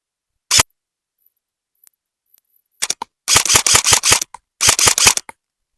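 A Specna Arms airsoft AR-15 rifle fired outdoors at about 20 metres: sharp clacking shots, a few single shots first, then rapid full-auto bursts of several rounds each, loud and close.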